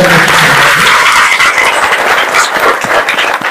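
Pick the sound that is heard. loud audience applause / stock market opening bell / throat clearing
loud audience applause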